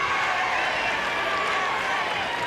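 Steady roar of a large tennis crowd at the 1998 Lipton final in Key Biscayne between Rios and Agassi, a dense, continuous wash of cheering and murmur that never drops away.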